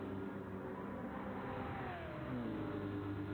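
A V8 Supercar engine in a racing video game holds a steady, loud, high-revving drone at the Dragon Trail Seaside track, the pitch climbing through the gears as the car runs flat out without pause.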